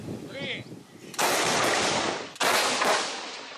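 A French Caesar 155 mm artillery cannon in a rapeseed field fires two deep, booming shots about a second apart, each loud broadband blast leaving a long rumbling decay.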